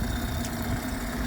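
A 2010 Mercury 15hp outboard engine idling, a steady low rumbling hum with an even, continuous tone, close by and alone.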